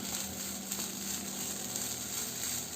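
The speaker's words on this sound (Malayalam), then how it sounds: "ഇനി അവസാനമായിട്ട് നമുക്ക് കുറച്ച് മല്ലിയിലയും കൂടി ചേർത്ത് മിക്സ് ചെയ്യാം" Vegetables sizzle steadily in a pan as coriander leaves are mixed in, a close, even frying hiss with faint stirring, no voices.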